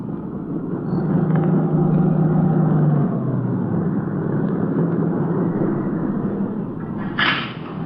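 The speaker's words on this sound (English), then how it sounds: "It swung off the dirt road and pulled to a stop near the shack." A sedan comes off a dirt road and rolls to a stop near a shack, its engine rumbling steadily and then easing down as it halts, with a brief higher noise near the end.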